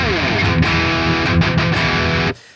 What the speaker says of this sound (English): Nutcracker is all about the heavy tones, so the default setup for that entire amp and gain stage, it's all about furious furious tones